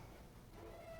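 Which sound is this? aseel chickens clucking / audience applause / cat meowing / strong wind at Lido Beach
cat meowing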